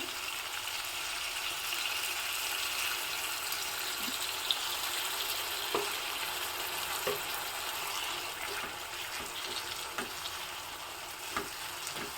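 Tamarind juice hitting brinjal frying in oil makes a loud, steady crackling sizzle close by, with occasional small taps of a spoon against the pan and no voices.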